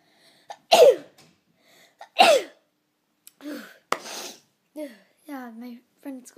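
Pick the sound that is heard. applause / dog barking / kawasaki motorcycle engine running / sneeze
sneeze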